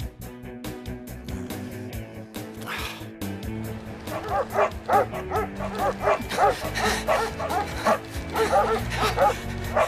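Several cartoon dogs yap and bark in a fast, steady stream of short yips that grows louder over bouncy music, following a quieter opening of music alone.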